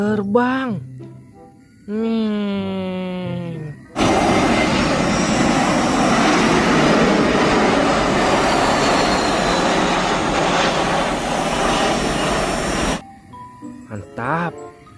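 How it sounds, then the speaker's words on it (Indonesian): An airplane flies overhead, a loud broad roar that rises abruptly and holds for about nine seconds before cutting off. Excited voices talk before and after it. "Wow, pesawat terbang."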